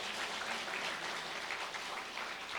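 Church congregation clapping together after a pastor's invitation to applaud one another, a steady, dense wash of many hands sustained throughout at a moderate, slightly distant level.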